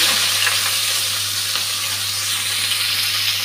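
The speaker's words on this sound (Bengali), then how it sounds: "এখন পেঁয়াজ কাঁচা লঙ্কাটা দিয়ে দিলাম।" Sliced onion and green chili sizzle steadily in hot oil in a pan, with a bay leaf, while preparing a Bengali fish curry; a continuous, fairly loud frying hiss runs alone throughout, without talk.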